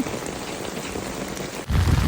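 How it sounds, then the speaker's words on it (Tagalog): Dense heavy rain in Japan hisses continuously, then a deeper rumble swells in near the end under the downpour. "Lakas ng ulan, guys."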